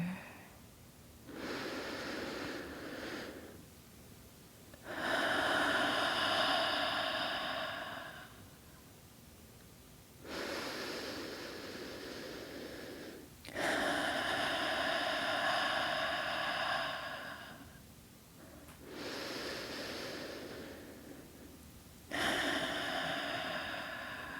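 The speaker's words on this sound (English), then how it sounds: "have 3 big breaths. Deep breaths together." Slow, deep breaths drawn in and let out in a calm ASMR sleep session, several long inhale-exhale cycles heard up close with short quiet gaps between them, and no talking.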